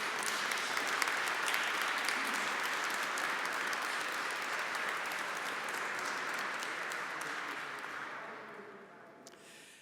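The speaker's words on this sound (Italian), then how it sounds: "un applauso ci va" Sustained applause fills a church for newly appointed vicars forane at a Chrism Mass, a dense steady clapping from a large congregation that holds for several seconds before tapering off near the end.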